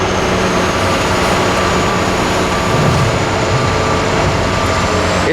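A Caterpillar EL300B excavator engine runs at horsepower setting 1, a loud, steady, close drone that holds an even level throughout without a break, with no voices.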